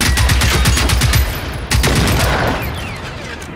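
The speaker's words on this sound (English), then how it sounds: "He's firing at me." Rapid, sustained automatic gunfire from an enemy in the video game Generation Zero, loud and continuous with a dense rattling rhythm that eases slightly after a brief jolt midway.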